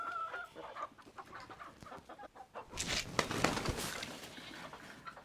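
Hens clucking and squawking on a farm, with a small rooster nearby, a scattered run of close, busy calls that swells into a louder flurry of agitated squawks.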